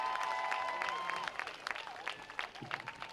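Crowd applause and cheering in the stands at a high school football game honoring a cheerleader, with broadband clapping and a few whistles and shouts that start strong and thin out over about three seconds.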